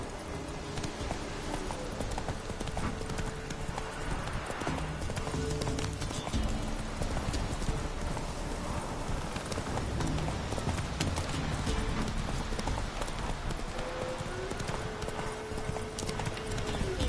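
Roach, the horse in The Witcher 3, clip-clops steadily at a walk on the ground, hooves beating in an even rhythm throughout with a low background hum, plus a brief whinny.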